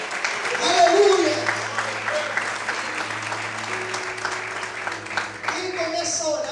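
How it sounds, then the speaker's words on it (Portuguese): A church congregation claps steadily during a worship service, a dense, sustained round of applause that swells early and continues throughout, with a voice speaking over it at times. "você pode aplaudir e glorificar o Senhor"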